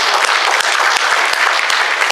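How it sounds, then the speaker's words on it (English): Audience at a District 1 candidate forum in a church breaks into brisk, dense applause, many hands clapping together at an even, sustained level for a couple of seconds. "let's give everybody a round of applause so far for coming out here"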